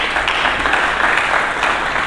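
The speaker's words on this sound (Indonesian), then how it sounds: "Berikan tepuk tangan bagi Yesus." A church congregation applauds during a Sunday sermon, a steady, moderately loud wash of many hands clapping together for the whole stretch.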